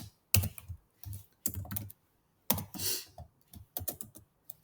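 Python code is typed on a computer keyboard in quick, uneven bursts of close, crisp key clicks separated by short pauses, with no talking.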